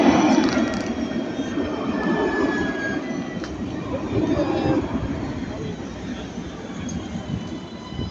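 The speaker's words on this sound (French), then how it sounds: "Et la rame 58 qui part en direction de l'aéroport." A tram, set 58, pulls away toward the airport at the Magnan stop, a rumbling, rolling rail noise with steady wheel and motor hum that fades slightly as it departs.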